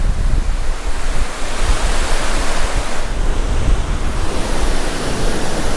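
Steady, loud wind rushes over the microphone on a Lake Superior beach, mixed with continuous surf, and no talking is heard.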